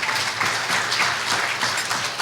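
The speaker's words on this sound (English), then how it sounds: "Give him a big round of applause." Audience applause at a Prime Minister's New Year gala, a dense, even wash of clapping from a crowd indoors, steady and fairly loud throughout.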